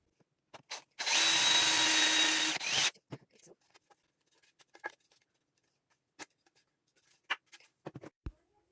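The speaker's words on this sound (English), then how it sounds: "I have drilled holes in them for the screws to go into." An impact driver bores a hole in a metal shelf bracket in one loud, steady run of about two seconds, followed by quieter scattered clicks and taps of handling.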